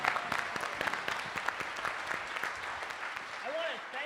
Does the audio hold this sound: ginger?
no